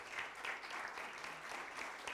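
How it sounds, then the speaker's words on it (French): Conference audience at the Amiens Energy Summit applauding at the end of an afternoon session, a steady, moderately distant wash of many hands clapping with no speech over it. "Vous pouvez applaudir"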